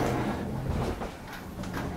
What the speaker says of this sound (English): I like the barn door slide.